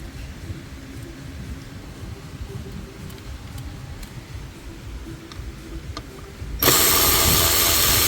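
A ratchet works on T30 bolts in the middle console of a Mercedes GLE W167, a close, steady mechanical clicking that runs throughout before a louder burst of broadband noise near the end.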